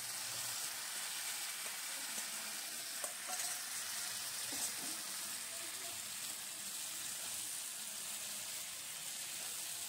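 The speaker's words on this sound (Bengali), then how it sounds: "এবার আমি সেদ্ধ করা ডালটা দিয়ে দিলাম।" Boiled lentils sizzle as they go into a pan of frying spices for an egg tadka, a steady broadband hiss and crackle with faint stirring clinks, continuous for the whole stretch with no talking.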